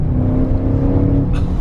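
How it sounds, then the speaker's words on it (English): A 2021 Audi RS6 Avant engine drones loudly from inside the car during a short cruise, a steady close hum of acceleration with no talking. "Quick little cruise in the brand new RS6 Avant."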